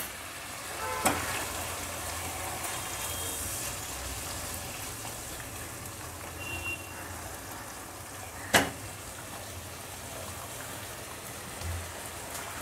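Onion and garlic paste fries in a pan with a soft, continuous hiss like light rain, broken by a couple of sharp clicks, heard up close without speech.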